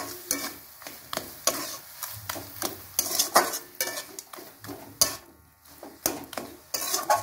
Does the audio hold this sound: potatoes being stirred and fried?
yes